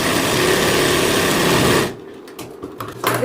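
Sewing machine running a straight corner stitch on fabric for a blouse belt, a loud, continuous whirring hum close by for nearly two seconds, then stopping and leaving a few faint clicks and handling noises.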